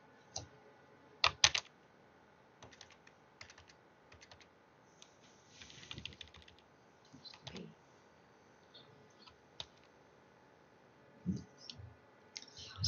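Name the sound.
typing on a computer keyboard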